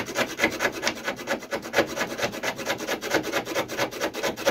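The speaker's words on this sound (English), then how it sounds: "So yeah, back on the hacksaw." A hand hacksaw cuts during a loft skylight fitting on a slate roof, a fast, steady back-and-forth rasp of regular strokes, close and fairly quiet, with no talking.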